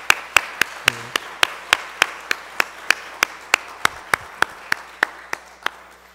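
A church congregation claps together in a steady, even beat, about four sharp claps per second, close and loud, with a faint voice briefly underneath.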